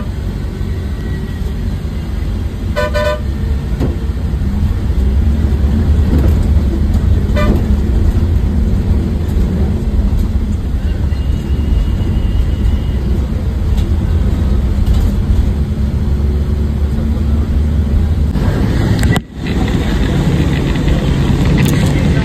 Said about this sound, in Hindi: बार बार बस ऐसे धक्के खाती हुई गाड़ी आपको चलेगी।